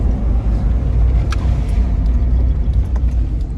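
A car engine idling loudly and steadily up close, a dense continuous rumble with no talk.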